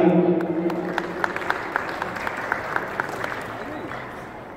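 Audience at a Pakistan Day gathering in March 2019 clapping to welcome the guest of honour, scattered sharp claps over a crowd murmur that thins and fades toward the end, with a voice at the start.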